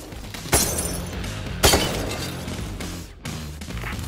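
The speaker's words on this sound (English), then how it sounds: "Shoot out the window and climb inside." Window glass shatters under gunfire in the video game PayDay 3, with two sharp loud breaks about a second apart followed by tinkling debris, then a further hit near the end.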